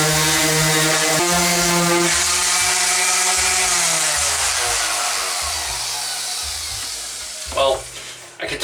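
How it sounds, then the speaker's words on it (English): A power sander sanding a fiberglass bathtub crack patch whines loudly, then its pitch drops as it spins down, followed by a couple of brief knocks. "let's go back to sanding this."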